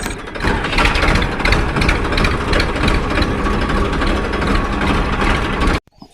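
A Massey Ferguson 1035 tractor engine runs with a steady, loud, close diesel rumble and mechanical clatter, then cuts off abruptly just before the end.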